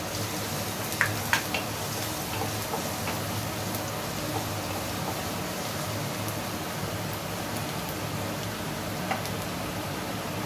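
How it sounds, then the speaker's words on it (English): Chopped garlic sautéing in hot oil in a pan, a steady dense sizzle that holds evenly throughout with a few faint clicks near the start. "Now we will put the garlic, chopped garlic. We will saute it."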